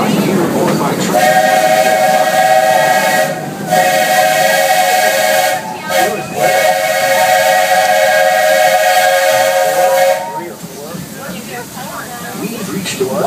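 Steam-style train whistle aboard the Magic Kingdom railroad in Orlando, loud and close, sounding in long sustained blasts with brief breaks over rolling train noise.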